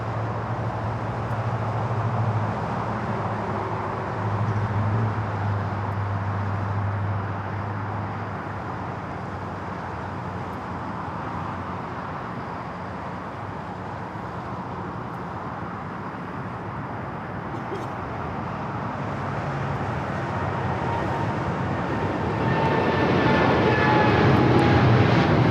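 A Korean Air Cargo Boeing 777 rolls down the runway at LAX, its broad engine roar steady and loud throughout, swelling slightly near the end as it builds power.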